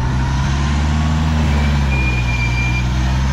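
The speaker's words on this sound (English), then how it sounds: "Select first gear. Yep. Foot hard on the brake. It's filming, brother. Load up the accelerator and dump off the brake." A Tourer-spec four-wheel drive at Glasshouse pulls away in first gear after the brake is released, its engine a loud, steady low drone with a continuous mechanical hum from start to finish.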